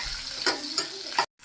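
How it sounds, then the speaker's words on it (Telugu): Brinjal frying in oil for nune vankaya curry gives a steady sizzle, with three sharp stirring scrapes spaced evenly before the sound cuts off abruptly. "వంకాయ బాగా వేగిపోయింది."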